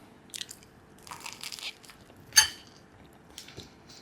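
Someone bites and chews guacamole toast made with avocado, tomato, onion and salt, giving a few soft crunches and one sharp bite near the middle, close and quiet, with no talking.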